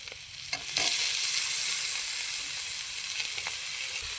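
Chopped tomatoes go into potatoes frying in a pan for a potato and eggplant curry, setting off a steady, bright sizzle that swells after a brief stir and holds evenly.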